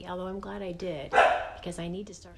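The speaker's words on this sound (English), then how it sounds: "I'm sorry about the dog." A dog barks in short bursts near the microphone partway through, breaking in over someone talking steadily about makeup in a home setting.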